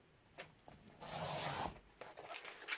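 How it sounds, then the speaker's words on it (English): Paper is cut for a scrapbook album in a quiet room: a few faint clicks, then one drawn-out rasping cut through the sheet, followed by soft handling noises. "So first let me cut at this mark"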